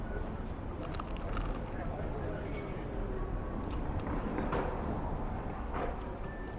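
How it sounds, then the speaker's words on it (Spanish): Someone bites into a crunchy Naples pastry with cinnamon and pieces of orange, giving a few brittle crackling crunches over a busy street-like background. "Está crujiente, escuchen."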